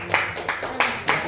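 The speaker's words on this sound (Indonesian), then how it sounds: "tepuk tangan buat Saiful" A few people clap in a classroom, four sharp separate claps spaced evenly, close and fairly loud, rather than a full round of applause.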